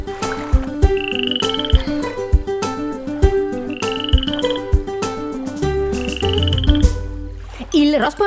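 Repeated frog-like croaks sound against a bouncy Italian children's song about a toad, keeping time with the plucked accompaniment and steady beat, then a short burst of noise at the end.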